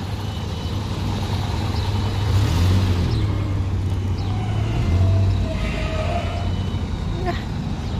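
A school bus in the UAE pulls away with a low, rumbling engine drone that swells and fades, heard outdoors against steady road noise.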